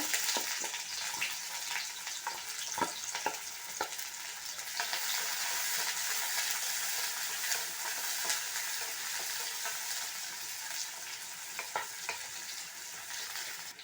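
Mustard seeds and onions fry in hot oil for a long bean poriyal, a steady close sizzle broken by scattered crackles and pops and the occasional stir, with no voices.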